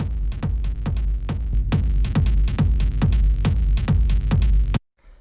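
Two distorted industrial techno kicks grouped with bass, heard dry without effects: heavy, pounding booms in a fast, relentless four-on-the-floor pulse with gritty low rumble, loud and close, cutting off abruptly near the end.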